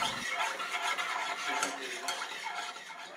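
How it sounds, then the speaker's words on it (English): Steady scraping and clinking of a spoon stirring sugar into a hot orange juice mixture in a pot, continuous and close for the whole stretch, with no talking. "And sugar. And mix that together until it dissolves."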